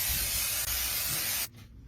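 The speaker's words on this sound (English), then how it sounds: "Take some nonstick spray and spray it really good." Nonstick cooking spray hisses from an aerosol can onto a cooking pan, one steady loud spray lasting about a second and a half before cutting off sharply into quiet.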